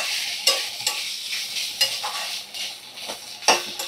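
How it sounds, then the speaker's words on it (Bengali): Grated coconut, about half a coconut's worth, is stirred around a hot frying pan, with repeated scraping strokes of a spatula and a few sharper knocks over a soft, steady sizzle. "এবার দেখো কোড়ানো নারকেল আমি হাফমালা নারকেল দিয়ে দিলাম, দিয়ে ভালো করে নাড়াচাড়া করে নিই।"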